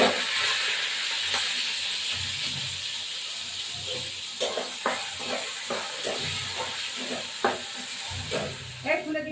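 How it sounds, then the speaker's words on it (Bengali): Onion fries in a pan for a chicken curry, a loud steady hiss of sizzling oil overlaid with repeated soft scrapes and knocks as it is stirred, close by. "এবার এই পেঁয়াজটা ভেজে দেবো।"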